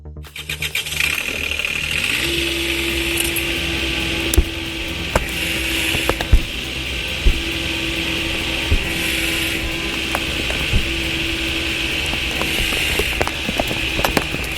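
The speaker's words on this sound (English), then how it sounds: "With a high mechanical advantage rigging system and a small 18 horsepower tractor," A small 18 horsepower tractor pulls a stump out with a high mechanical advantage rigging system, its engine droning steadily under repeated clicks, creaks and sharp mechanical snaps, loud and close.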